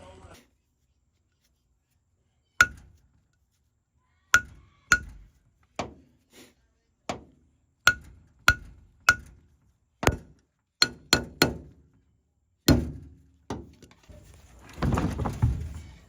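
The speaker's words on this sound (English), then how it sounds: "So let me try and hammer these and see if it'll come out." Sharp metallic hammer strikes on a 1984 International 484 tractor part ring out one by one at irregular intervals, several in quick succession, followed by a brief scraping rattle.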